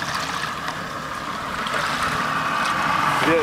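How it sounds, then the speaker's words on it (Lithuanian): A boat moves across open water, giving a steady wash of water and engine rumble that grows slightly louder toward the end, continuous and fairly near, with no talk. "Viena valtis plaukia."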